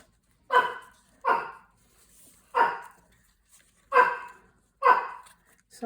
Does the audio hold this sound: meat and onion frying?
no